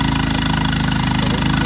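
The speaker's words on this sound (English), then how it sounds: "So this is the sound of the generator without the additional muffler." An RV generator engine without its additional muffler runs under air-conditioner load, a loud, close, steady chugging drone with a fast even exhaust pulse and raspy hiss.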